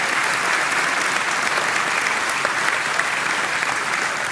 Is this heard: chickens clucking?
no